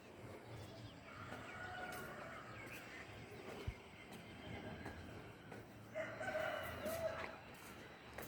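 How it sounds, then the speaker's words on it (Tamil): A rooster crows faintly in the distance, twice, over a steady background rumble. "என்னடா கோழி கூற சத்தத்தை காணவேன்னு கரெக்டாக கத்திருச்சு"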